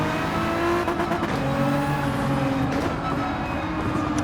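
A Nissan GT-R in Gran Turismo 7 accelerates hard out of corners, its engine note rising and shifting in steady loud sweeps, with a faint hint of tyre squeal and no voices.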